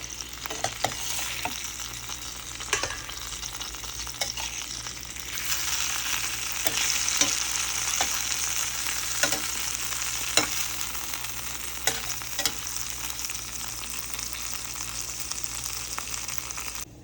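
A pan of ruimach fish-leaves fries lightly in oil with a steady, close sizzle that swells midway, while repeated short scraping stirs tick through it and nobody talks.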